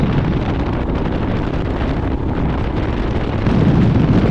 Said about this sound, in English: the wind just blows me all over the place